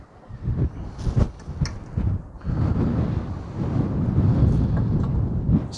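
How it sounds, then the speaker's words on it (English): Wind blows outdoors at a survey site where a Leica TS15 robotic total station is being set up on a tripod, a constant rough rumble that buffets the microphone and strengthens into a steady roar. "It's a bit windy today"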